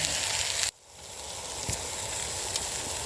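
A steak sizzles in a cast-iron skillet at an outdoor cookout in the woods, a steady broadband hiss. It drops out briefly near the start, then resumes and holds, close and moderately loud.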